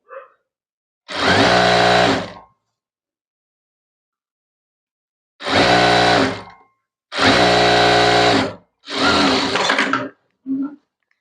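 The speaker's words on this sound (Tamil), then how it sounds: "லைனிங் கிளாத்ல மட்டும் இப்போ வந்து தையல் போட்டுறணும்" A sewing machine stitching lining cloth for a saree-to-maxi conversion runs in four loud, close bursts of steady whirring, with silent pauses between them and a short final tap of the mechanism.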